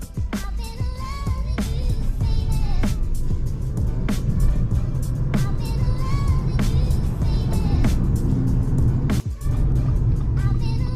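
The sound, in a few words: Fiat 500e electric car accelerating hard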